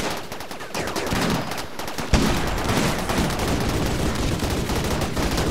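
Gunfire in the video game Rimworld: a dense, continuous clatter of rapid shots and bursts that sharpens into a louder volley partway through, with no talking.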